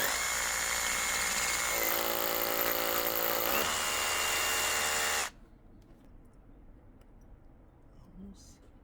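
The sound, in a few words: brushless heavy duty rotary hammer drill drilling into brick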